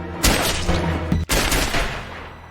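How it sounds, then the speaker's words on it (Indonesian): Gunshots in a film scene, a loud burst of blasts with a sharp break partway through, then continued booming gunfire that fades toward the end. "Huayi pun menembak kaki Soktae karena dia terus menendang Yongju."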